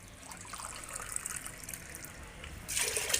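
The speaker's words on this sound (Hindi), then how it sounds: "पानी के डालूंगा। 5 गिलास।" Water poured by the glassful into a cooking pot of masoor lentils, a close splashing gush that trickles on and then surges louder near the end as another glass goes in.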